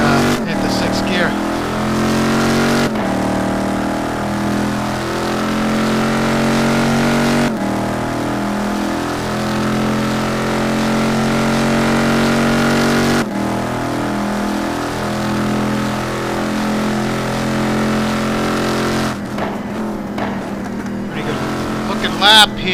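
A Mercedes GT2 race car engine revs hard in a racing video game at Hockenheim, held high in one gear with long wailing pitch sweeps and abrupt shift breaks, loud and continuous, with commentators talking over it.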